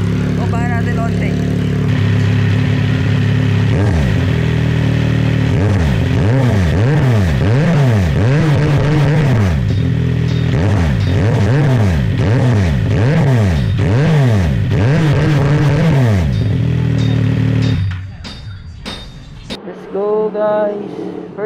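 A CFMOTO 675SR-R motorcycle fitted with a full-system Orion exhaust is revved repeatedly in rhythmic blips, loud and close, before dropping back to a quieter idle near the end.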